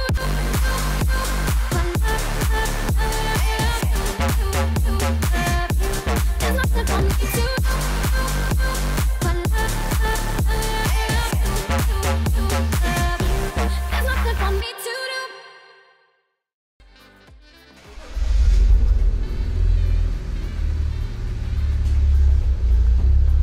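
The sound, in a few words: BMW 325i E92 engine running as car moves forward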